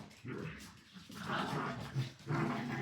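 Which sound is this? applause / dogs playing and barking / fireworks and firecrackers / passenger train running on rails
dogs playing and barking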